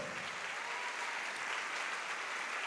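A church congregation applauds in praise during a sermon, a steady, even wash of many hands clapping that stays constant throughout and sounds somewhat distant and faint.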